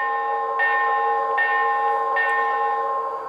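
A model train locomotive bell, on a PRR S2 6-8-6 turbine model, rings in a steady repeating pattern, three clear metallic strikes evenly spaced over a sustained tonal ring, loud and close.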